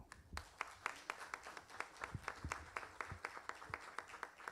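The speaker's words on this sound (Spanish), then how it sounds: "Un aplauso, por favor." An audience at a university lecture event applauds, a faint, distant patter of many hands clapping with sharp individual claps standing out in an even rhythm.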